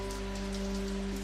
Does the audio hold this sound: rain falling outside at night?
yes